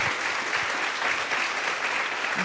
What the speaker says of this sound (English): A round of applause for these ladies.